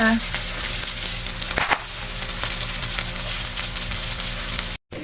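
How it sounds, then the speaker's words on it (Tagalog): Pork sizzles and spatters in a hot pan, a steady bright frying hiss with scattered pops and crackles throughout, close and fairly loud. "eto naman pork ang ating lulutuin. Ayan, tumatalsik-talsik pa."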